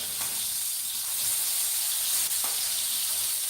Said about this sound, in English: Frying them up in this bacon grease just gives them a beautiful flavor.